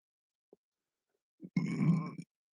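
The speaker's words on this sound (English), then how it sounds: "Wow, what a burp." A single loud, drawn-out burp of about half a second, preceded by a couple of faint small sounds, heard close up in an otherwise quiet room during a live football game broadcast.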